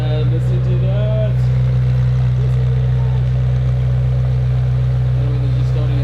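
A McLaren Senna's engine idles steadily just after startup, heard close to the exhaust pipe as a deep, constant drone with faint voices now and then.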